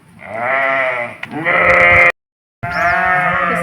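A flock of sheep bleats loudly and close by, with several long, wavering, overlapping cries separated by one brief pause of silence before the calls resume.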